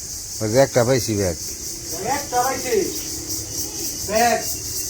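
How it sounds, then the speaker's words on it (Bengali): Crickets keep up a continuous high chirping in the background in a village setting while people talk nearby. "ঝিঝি পোকার ডাকগুলো খুব ভালোই লাগে এই সময়"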